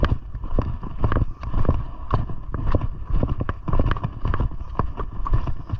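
Horse hooves clop steadily on a Sahara desert trail as the horse is led on foot down from a cliff, a close, irregular run of hoof strikes with light wind noise behind.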